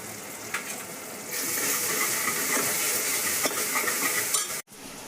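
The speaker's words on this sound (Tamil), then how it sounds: "தக்காளி நல்லா வதங்கினதும் கொஞ்சம் மஞ்சள் போட்டுக்கலாம்." Tomatoes sautéing in a pan give a steady, close sizzle and hiss that swell partway through and then cut off abruptly near the end, with no one talking.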